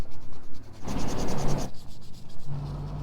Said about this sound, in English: so I'm just sanding those smooth